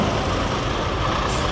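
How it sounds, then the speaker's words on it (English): An old lorry passing on a road, its loud engine roar and rumble filling the whole short moment at close range, with a brief hiss near the end. "What a lorry that is."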